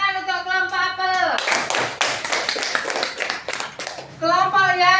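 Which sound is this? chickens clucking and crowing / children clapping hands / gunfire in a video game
children clapping hands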